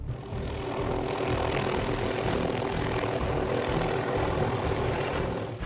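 A loud, steady rotor and engine drone from an aircraft overhead, continuous and close, with no talking.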